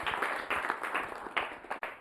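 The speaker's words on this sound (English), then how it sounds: "Give a hand clap to yourself." An audience claps at a gathering with young Kenyans, a short burst of scattered handclaps at moderate distance, uneven and fading out briefly before a few last claps.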